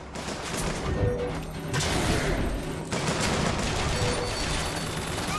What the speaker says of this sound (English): Turret, now!